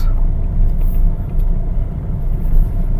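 A Hyundai i20 diesel engine at low RPM, crawling at about 20 km/h, gives off a steady, loud, deep rumble with a rough, knocking edge, heard from inside the car.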